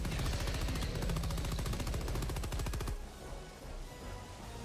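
Rapid automatic gunfire from the video game Helldivers 2, a loud, dense burst of evenly spaced shots lasting about three seconds before cutting off into quieter game ambience.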